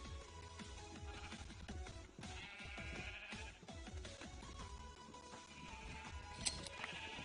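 Sheep in Minecraft bleat several times over a steady backdrop of game music and ambient tones, the bleats close and fairly clear.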